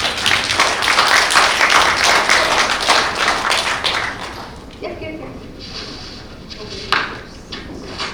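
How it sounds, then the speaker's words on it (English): Audience applause at a conference on digital skills for the Mekong Delta, a burst of clapping that is loud for the first four seconds, then thins out into scattered taps and handling noise. "I want another round of applause for Andrea in order to switch the stage."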